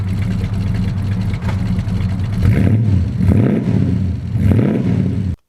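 A restomod car powered by a 500 cubic inch V8 from a 1970 Cadillac Eldorado rumbles close by, its deep idle swelling into several throaty revs before cutting off abruptly.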